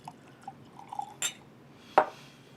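Hancock's President's Reserve bourbon drips into a glass, giving a few faint drips, then a sharp clink and a small splash after a quiet gap.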